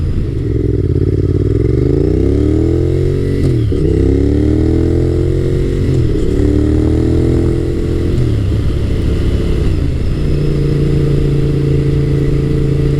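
Honda VTR1000 SuperHawk V-twin motorcycle engine accelerating hard, loud and close, its deep rumble climbing in pitch through repeated gear changes, with short dips between each rising pull.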